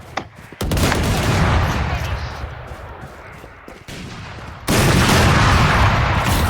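Heavy gunfire from the video game Valorant, loud sustained rattling bursts that ease off briefly and then surge again near the end, with game effects layered in.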